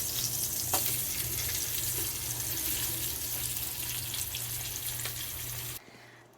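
A vegan corned beef slice frying in a pan gives a steady close sizzle with a low hum beneath it, continuing until it cuts off abruptly near the end; no talk.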